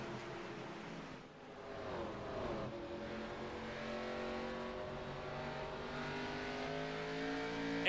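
Stock cars racing on the oval at Lucas Oil Raceway, engines droning in a steady layered roar with rising pitch as the pack accelerates, heard from a moderate distance without voices.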